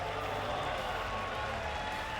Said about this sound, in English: I love the energy from the crowd.